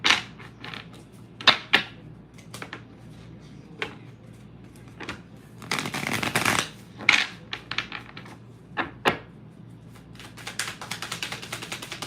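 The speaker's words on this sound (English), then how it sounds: "and then we're gonna pull some of the other cards." Tarot cards shuffled and drawn by hand: a run of crisp clicks and papery snaps, with a longer riffling burst in the middle, close and fairly quiet over a faint steady hum, with no talking.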